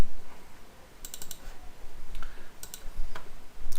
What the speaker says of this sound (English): I'll double click, it's quicker.